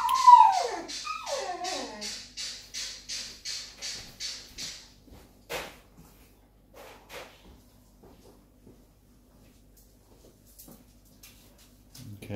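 A dog whimpering and howling indoors, a series of rising and falling whines in quick succession at first, then sparser faint cries and soft knocks, with no speech.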